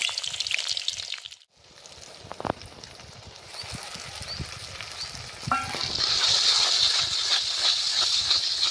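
Sliced onions hit hot oil in a kadai and burst into a bright, loud sizzle that builds and holds steady, after a brief quieter moment and a few stirring clinks.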